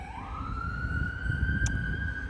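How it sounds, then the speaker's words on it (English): An ambulance siren wails steadily, its tone rising then holding high, over a constant rumble of passing traffic, fairly close and loud. "There are some sirens going by at the moment."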